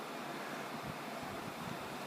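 Sweet, still-cloudy wort runs off from the mash into a jug while a saison is being brewed, making a steady, unbroken rushing trickle with no voices.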